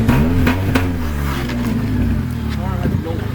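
A lowered stance car's engine revs and falls with sharp exhaust pops crackling in quick bursts, loud and close, while people talk over it.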